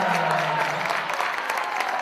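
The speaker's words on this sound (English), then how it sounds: "And listen to this crowd." A girls' high school basketball crowd in a gym roars and applauds after a three-pointer, a loud, steady wall of cheering and clapping.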